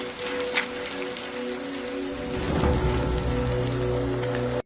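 Steady rain pours down, a dense continuous hiss of drops that grows heavier and fuller about halfway through, with faint sustained tones lying underneath and no talking.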